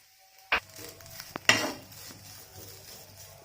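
Grated coconut fries in ghee in a pan while a metal spoon stirs it, with a few sharp clinks and scrapes over a quiet background sizzle.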